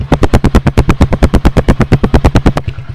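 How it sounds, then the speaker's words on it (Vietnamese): A Honda Win 100 motorcycle engine with a new exhaust, loud sharp rapid popping bursts at a steady rhythm of about eight per second, close to the microphone, ending abruptly near the end. "Cái bô hàng mới này công nhận nghe cái tiếng nó thanh thanh làm sao anh chị."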